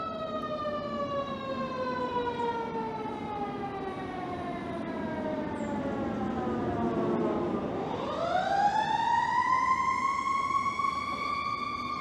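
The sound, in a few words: ambulance siren as distraction during dog test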